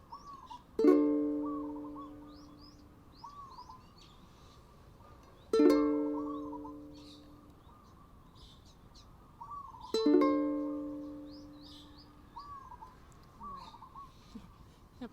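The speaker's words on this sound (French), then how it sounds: "Il y a plein d'oiseaux." Small birds chirp and call outdoors, faint and scattered, in the background behind three loud, ringing ukulele chord strums spaced a few seconds apart.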